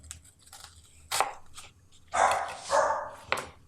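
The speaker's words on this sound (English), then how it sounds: "Bark, bark. Yep, the dog." A dog barks nearby in a home kitchen, a few short, loud barks with softer whimpering sounds between them, standing out clearly against a quiet background.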